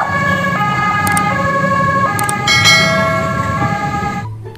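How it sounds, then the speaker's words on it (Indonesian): Toy ambulance siren from a white toy ambulance, electronic two-tone wail stepping between pitches, loud and close, with bell-like chimes over it and cutting off abruptly at the end. "Wow, lihat, ada mobil ambulan teman-teman warna putih."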